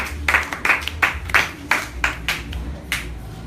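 A church congregation at a Bible study and prayer service claps together, a loud run of roughly ten rhythmic bursts of hand claps close by, with no talking over it.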